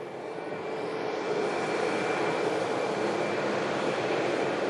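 A British Airways airliner passes overhead at Manchester Airport's runway visitor park, above the Concorde hangar, a broad steady roar of jet engines that holds loud and even throughout with no voices.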